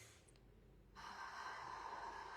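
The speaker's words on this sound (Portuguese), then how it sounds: "puxar 2 vezes pelo nariz e soltar pela boca" Breathing exercise with two inhales through the nose and an exhale through the mouth, heard as quiet close sniffs followed by a longer, louder airy breath out.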